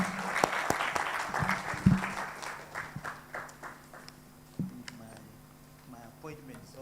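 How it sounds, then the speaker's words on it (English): Scattered clapping from a modest audience at a handover ceremony for a radio station and newspaper, with distinct individual claps that thin out and fade, and voices murmuring through it. "So I want us to clap for the panelists."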